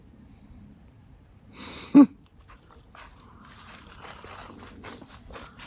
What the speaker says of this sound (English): Just sitting here by the cabin with a goofy dog.